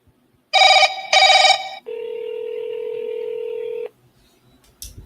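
Outgoing phone call: a few short bursts of dialing tones, then a steady electronic ringback tone for about two seconds that cuts off, followed by quiet and a brief click.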